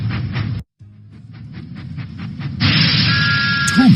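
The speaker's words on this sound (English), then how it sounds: "Thomas puffed proudly into the fair." Cartoon steam locomotive puffing in a children's video game, a steady run of rhythmic chuffs that grows louder and busier toward the end, followed by a short high whistle.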